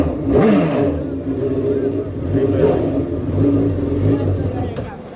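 A Yamaha 1800cc jet ski engine runs and revs nearby in several rising and falling surges, with an uneven, rumbling tone.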